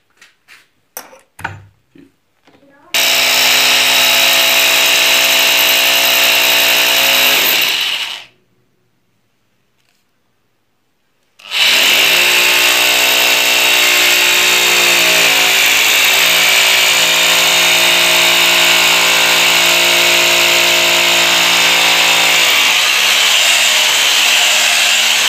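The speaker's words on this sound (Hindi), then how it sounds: "तो मैं दीवार में सुराख करता हूँ" An electric drill bores into a wall in two long, loud, continuous runs split by a short pause, preceded by a few sharp clicks and taps.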